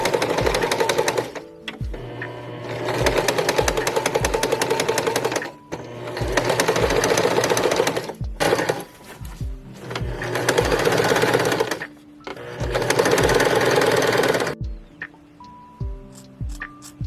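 A sewing machine stitches dance costume fabric in loud, rapid mechanical bursts, several runs of a few seconds each separated by brief stops, close up with no talking.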